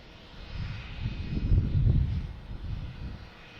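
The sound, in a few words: Scandinavian Airlines jet airliner at Boston Logan Airport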